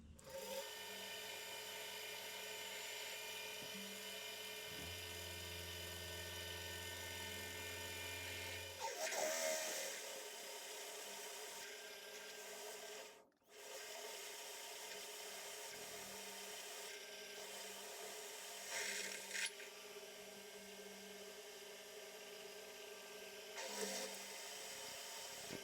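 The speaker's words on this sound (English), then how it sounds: "I'm just going to drill these" Drilling holes in metal for a tailstock build: a steady, whining drill or mill motor runs continuously with a short pause partway through, faint and alone without talk.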